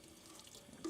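Water runs from the tap into a large sink in a sandcarving workshop where acrylic pieces are being prepared, a faint, steady splash lasting about a second with a slightly stronger gush near the end.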